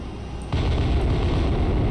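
Big naval guns fire on a ship in the submarine game Cold Waters, with a heavy, loud boom at about half a second that rolls into a sustained deep rumble.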